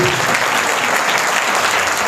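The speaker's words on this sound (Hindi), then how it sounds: "खुदावंद के जलाल के लिए जोरदार तालियां" Loud, steady applause from a church congregation during a Hindi-Urdu sermon, a dense wash of clapping that fills the moment without letup.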